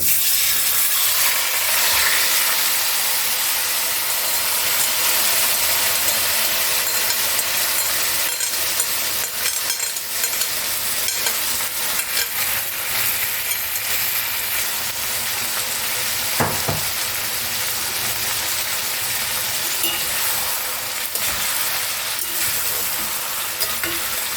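Marinated chicken pieces for Mughlai chicken hitting hot oil and ghee, a loud continuous hissing sizzle with occasional scraping stirs and a brief clatter, close by and without voices.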